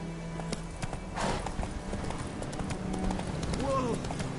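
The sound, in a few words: horse hooves clip-clopping, Roach in The Witcher 3 video game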